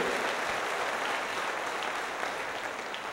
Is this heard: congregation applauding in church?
yes